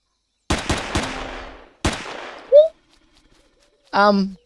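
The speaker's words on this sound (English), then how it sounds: "This pistol's not doing a lot to him, eh?" Four sharp pistol shots from Empyrion - Galactic Survival, three in quick succession and then a fourth after a pause, each loud and close with a short echoing tail, followed by brief voice sounds.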